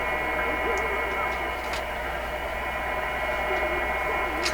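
Static and hiss from a Westinghouse 636 vintage radio being tuned on shortwave, a steady dense noise bed with faint tones and occasional ticks throughout.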